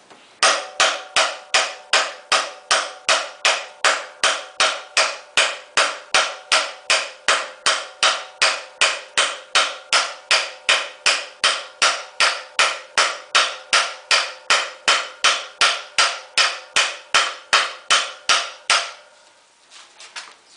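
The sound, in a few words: hammer pounding metal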